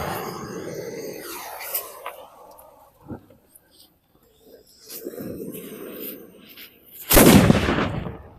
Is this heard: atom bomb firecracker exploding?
yes